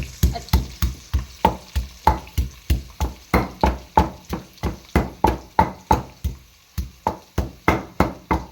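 Onions frying in a pan under a steady, rhythmic series of close spatula knocks and scrapes, about three per second, over a low sizzle, with no talking.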